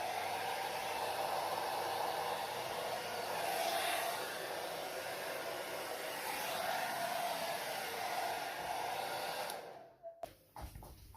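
A hair dryer blows steadily close by as it warms the sides of a metal mold around a frozen no-bake cheesecake, a constant airy whoosh that swells slightly twice before clicking off near the end.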